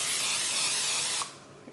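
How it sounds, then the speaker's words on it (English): Cooking spray hisses onto a muffin pan in one steady blast of just over a second, close and loud, then cuts off sharply. "you're just gonna spray it with some"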